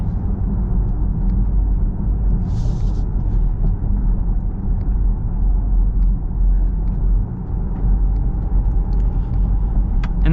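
A 2025 Buick Envision ST cruising on a jointed road, with a steady loud low rumble of road and tire noise inside the cabin and no clear separate thumps from the joints.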